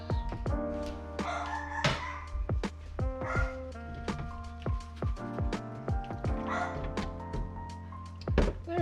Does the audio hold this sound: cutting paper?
no